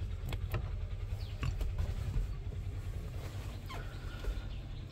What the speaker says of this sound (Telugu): Fold mirrors.